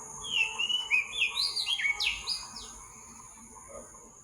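Birds chirp in woodland, a run of bright, rising and falling tweets and trills close by for a couple of seconds before thinning into quiet outdoor ambience.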